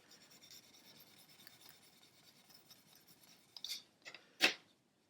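A Flex-I-file abrasive sanding stick pressed hard and rubbed through varnish on a model, a faint steady scratchy rasp building to a few louder, sharper strokes at the end.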